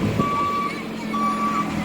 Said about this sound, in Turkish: Aa iş makinesi kepçe.